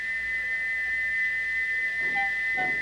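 A single shrill, steady steam engine whistle tone holds without a break, with faint brief chirps near the end over a low background hum.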